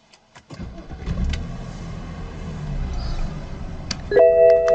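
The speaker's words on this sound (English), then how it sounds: "Okay, let's start it now." A BMW car engine cranks and catches, then settles into a steady idle, loud and close inside the cabin, followed by a few electronic chimes from the dashboard.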